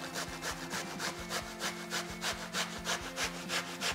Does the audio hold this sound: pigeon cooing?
no